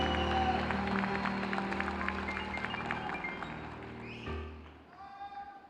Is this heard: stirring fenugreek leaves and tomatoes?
no